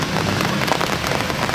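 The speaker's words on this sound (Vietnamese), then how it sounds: "Đội mưa to." Heavy rain pours down steadily during an outdoor amateur football match, a dense, loud, continuous hiss of drops with no talking.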